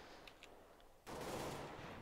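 Gunfire in Counter-Strike on de_nuke during a women's esports final: faint clicks, then a sudden dense burst of shots that continues steadily to the end, fairly loud against a quiet background.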